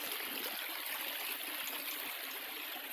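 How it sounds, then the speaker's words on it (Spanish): A river flows steadily with a soft, constant rushing and trickling hiss, faint and even from start to finish, with no voices. "Miren qué belleza de río."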